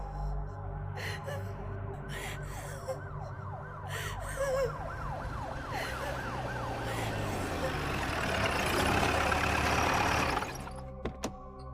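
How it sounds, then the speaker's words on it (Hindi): Police jeep siren wailing in a repeating up-and-down sweep, steady and fairly close, rising louder toward the end before cutting off abruptly amid background rumble, used as a sound effect in a Hindi horror story. "तभी उसे पुलिस की जीप की सायरन सुनाई दी।"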